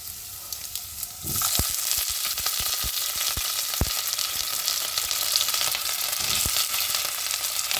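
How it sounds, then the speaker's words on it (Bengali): Potatoes hit hot oil with a sudden loud sizzle that keeps up as a steady, bright frying hiss, with a few stirring knocks of a utensil against the pan. "আলুগুলো একটু লাল লাল করে ভেজে নেব।"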